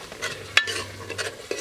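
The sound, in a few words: stirring ekuru ingredients into stew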